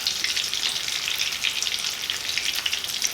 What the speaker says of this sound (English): Okay, so this is gonna fry